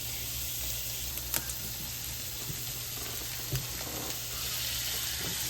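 Blackened fish fries in butter in a pan, giving a steady, even sizzle throughout, broken by a couple of faint clicks.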